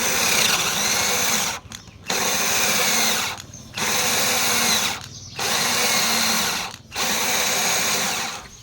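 A cordless drill with a dying battery whirs loudly in four bursts, each a second or two long, separated by short pauses as it bores into a metal bolt.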